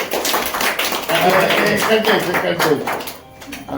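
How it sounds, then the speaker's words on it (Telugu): Office crowd clapping for a managing director's 73rd birthday celebration, a dense patter of hands from many people that rises, holds steady, then thins out near the end, with voices talking over it. "ఈ సందర్భంగా అందరూ క్లాప్స్ కొట్టండి అబ్బా ఒకసారి"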